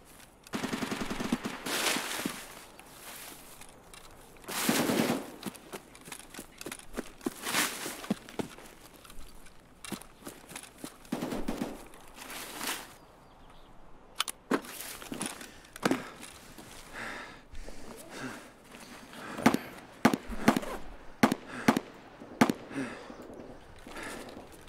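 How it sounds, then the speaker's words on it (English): Gunfire in the shooter game Escape From Tarkov, scattered single shots and short bursts popping at varying distances over a steady background, some sharp and loud, others distant and muffled. "A lot of shots going off."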